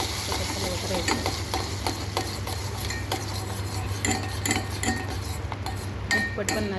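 Crab pieces stirred continuously in hot oil in a pan, with steady sizzling hiss and occasional clinks of a spoon against the metal, under a person talking throughout.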